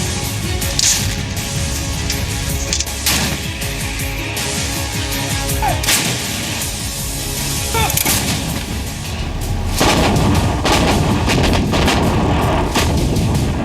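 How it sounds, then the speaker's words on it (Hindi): An M777 ultra-lightweight howitzer fires repeatedly, with sharp booming blasts cutting through constant loud background rumble and noise. "M777 अल्ट्रा लाइटवेट होवित्जर है।"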